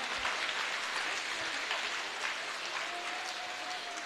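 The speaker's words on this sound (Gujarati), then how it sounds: "પાછી એક વખત તાળીઓ થઈ જાય." Applause from a crowd of students and guests at a school yoga day event, steady continuous clapping filling the whole stretch without pause.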